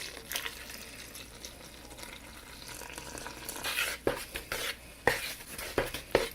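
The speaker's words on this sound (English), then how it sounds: "3 tablespoons milk powder. Slowly stir that in." Whole milk powder is slowly stirred into liquid for pan pizza dough, with soft sloshing and watery swirling that builds into quicker clinking strokes of a utensil against the container near the end; close and moderately quiet, without speech.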